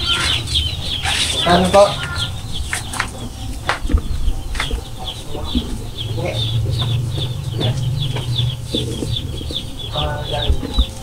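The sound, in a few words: chicks (sisiw) chirping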